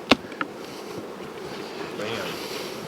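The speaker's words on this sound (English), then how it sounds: "you got bees in the top box there too." Honeybees buzz in a low continuous hum inside a hive during a late-winter check, with a couple of sharp clicks near the start.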